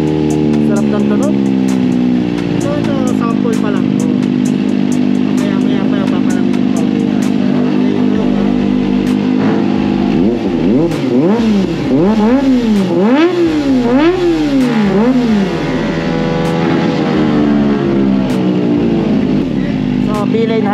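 A Kawasaki Ninja ZX-25R fitted with a Villain Hyper aftermarket muffler idles steadily, then revs repeatedly in sharp rising and falling bursts midway before settling back to a loud, close idle.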